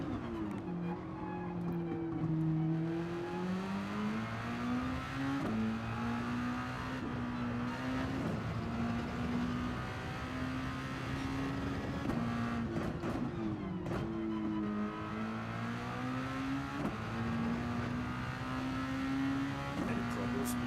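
A race car engine in a sim racing video game at the Nürburgring drones steadily and loudly through the whole stretch, its pitch sliding up and down with shifts and throttle changes.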